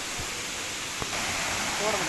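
The Thirumoorthy waterfall pours in a steady broadband roar, close and constant, with a few faint knocks and a brief murmur of voice beneath it.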